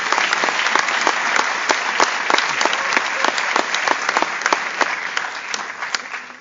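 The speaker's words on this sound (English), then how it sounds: "I got applause on that note." Conference audience breaks into sustained applause, a dense wash of many hands clapping steadily at close range with a few sharper individual claps standing out, no talk over it.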